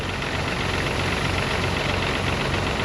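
A bouncy Little Red forklift tractor's engine idles at a seeding site in Western Australia, a loud, steady low rumble with a rough knocking texture, unbroken throughout and with no voices.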